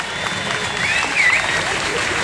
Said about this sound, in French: il mérite des applaudissements.